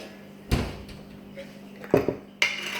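A spoon is picked up among dishes in a kitchen during vegan spaghetti prep, giving a few separate sharp clinks and clatters of metal on crockery with quiet pauses between them.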